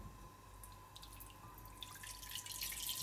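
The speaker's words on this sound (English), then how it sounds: "Hot dog water can go straight into there." Hot dog cooking water is poured into a kitchen sink, a faint splash and trickle that grows louder toward the end over a low background hum.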